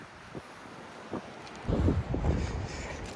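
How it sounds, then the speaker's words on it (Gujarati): Strong wind buffets the microphone on a road trip to Innes National Park, South Australia, a steady roar with heavier low gusts swelling in the second half. "પવન છે બહુ વધારે એટલે નથી કાંઈ શૂટ થતું"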